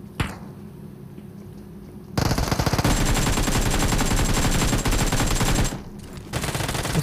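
Rapid automatic gunfire in the mobile battle royale game PUBG Mobile on the Livik map, dense close bursts of shots filling most of the clip after a quieter start.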